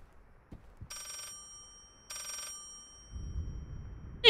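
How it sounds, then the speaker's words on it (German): A telephone in the horror video game Layers of Fear rings in two short bursts, quiet and tinny against near silence, followed by a low rumble. "Wo ist denn das Telefon?"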